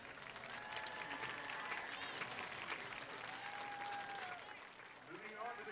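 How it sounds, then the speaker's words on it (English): Audience at a school team introduction event clapping and cheering, a sustained dense round of applause with crowd noise throughout, while an announcer's voice carries over the top. "Let's give a hand for our Pride of the Lions."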